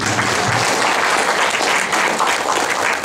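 Audience applause at a Marathi book-launch event for a documentary film: dense, steady clapping from a crowd, loud and sustained throughout without a break.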